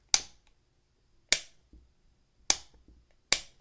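Four crisp, sharp metallic clicks spaced about a second apart from the thumb safety of a Les Baer Concept III 1911 .45 ACP pistol being flicked, close and isolated against silence.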